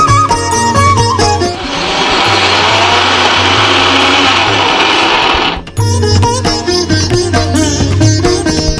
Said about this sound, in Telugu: ఇప్పుడు మిక్సీ పట్టుకొని వచ్చేస్తారండి.